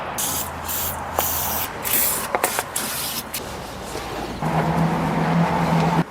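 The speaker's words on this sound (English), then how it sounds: "we're gonna be using the king of cleaning, which is the WD-40 degreaser." Aerosol spray of WD-40 degreaser hissing in several close bursts onto a 1996 Integra during a side skirt install, with a steadier, longer spray near the end.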